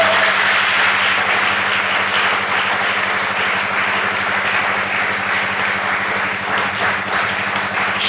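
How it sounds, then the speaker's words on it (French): A large congregation at a youth mass opening a national youth forum claps and cheers loudly and continuously, a dense sustained roar of applause filling the hall from start to finish. "Est-ce que tu peux acclamer très fort pour le Seigneur?"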